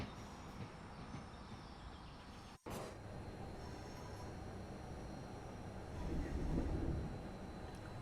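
A London Underground Bakerloo line train in Train Sim World 5 rumbles steadily past at a moderate distance, its low roar swelling near the end, with a brief dropout partway through.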